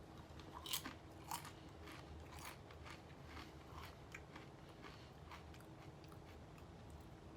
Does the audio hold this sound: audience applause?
no